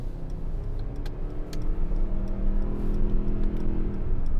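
Mercedes-AMG GLC63 4.0-litre V8 biturbo engine idling in race mode on a damp day, a steady low rumble with light ticking, holding constant and swelling slightly toward the end.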